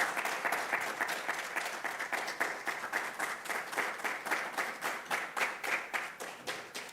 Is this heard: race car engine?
no